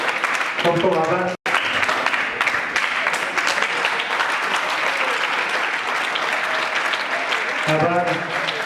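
Audience applause fills a felicitation ceremony at a cricket academy's selection day in Hanol, steady and dense throughout, with brief speech at the start and end and a short dropout near the beginning.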